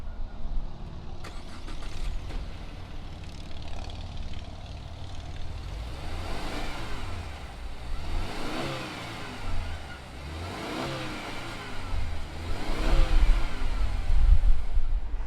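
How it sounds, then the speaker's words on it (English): A 2020 Subaru Ascent Limited three-row SUV engine is started and then revved in several rising and falling sweeps, loud and close, with the idle rumbling between each throttle blip and no talking. "let's go ahead, fire up this Ascent"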